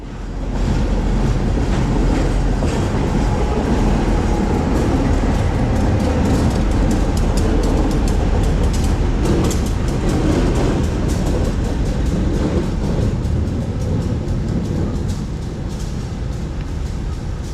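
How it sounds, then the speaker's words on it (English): A Providence and Worcester freight train led by an EMD GP38 and a B39 in matched red and brown paint rolls past at close range, a loud, steady rumble of engines and wheels with rhythmic clatter over rail joints throughout. "a matched set of correctly painted red and brown P&W units with an EMD GP38 and another B39"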